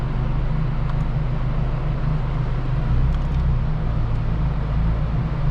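Volkswagen MK6 GTI with an HPA K04 turbo on a dyno during a 4th gear pull on 91 octane: a loud, steady low engine drone rumbles continuously with little change in level.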